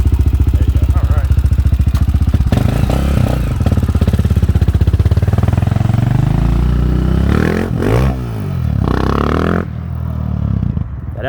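A Honda 400EX ATV with an FMF exhaust runs close and loud, holding a raspy idle and then revving up and down with rising and falling pitch, while a voice is faintly mixed in.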